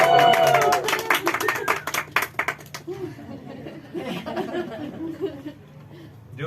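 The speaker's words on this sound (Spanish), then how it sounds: "un aplauso, un aplauso." An audience at a book presentation on the gay novel in Mexico claps for about three seconds, loud and dense at first, then fades into scattered chuckles, murmurs and a few voices.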